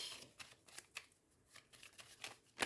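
Tarot cards drawn from a deck and laid down on a spread make a series of short, soft papery flicks and slaps at an irregular pace, quiet and close, with no talking.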